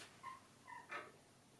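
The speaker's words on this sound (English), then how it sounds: "Oh yeah, it was a cat." A cat gives a few faint, short mewing calls, about three brief cries in a quiet room.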